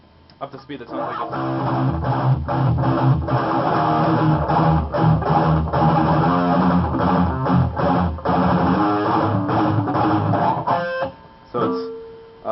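A fast, distorted electric guitar riff from a song's breakdown plays continuously and loudly for around eleven seconds in a driving rhythm, then stops abruptly.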